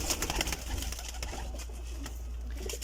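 Domestic pigeons in an indoor loft coo softly and continuously over a steady low hum, with scattered rustles and wing movements nearby.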